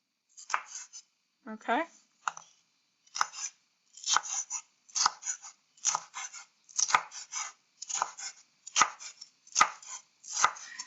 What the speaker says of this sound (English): let's go ahead and chop up our veggies. Basically, as small as you can make them.